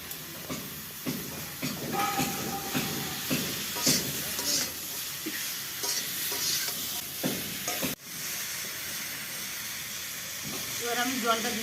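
Garlic paste frying in a pan for a singi fish curry, a close, steady sizzle broken by repeated scraping stirs, then a sudden burst of louder hissing near the end, with a voice speaking at times.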